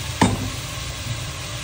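Food sautéing in a pan with fish sauce gives a short burst of sizzle as it hits the hot surface, followed by a steady low frying crackle up close.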